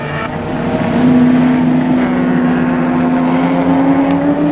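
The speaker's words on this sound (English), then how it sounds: "Kurt really pushing that little CRX 3rd gear all the way down the front straight" A little Honda CRX race car, black number 112 in the improved production class at Mission Raceway, holds third gear at full throttle down the front straight, its engine note a loud, steady, slowly rising drone.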